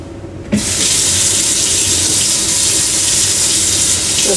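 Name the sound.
washing a kitchen utensil under running tap water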